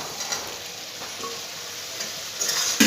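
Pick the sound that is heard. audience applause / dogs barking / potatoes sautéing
potatoes sautéing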